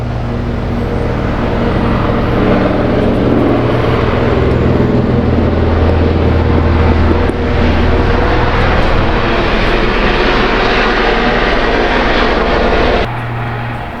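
An airplane touches down nearby, heard as a steady, loud, broadband engine roar with a low droning hum that holds throughout and drops off near the end, with no talking.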